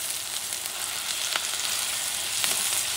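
Chopped garlic and vegetables fry with meat in a hot pan for spicy dirty rice, giving a steady bright sizzle with a few stirring scrapes and no voices.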